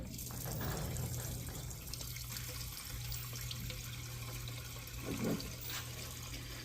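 Fuel pours quickly from a TuffJug gas jug, a steady liquid rush with a low continuous hum underneath throughout, fairly loud and close with no talking.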